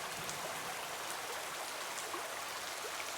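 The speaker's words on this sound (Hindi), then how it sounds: "बारिश का भरपूर मजा ले रहे थे" Rain pouring in a Hindi cartoon story for kids, a dense, loud and constant patter and hiss filling the whole stretch with no voices.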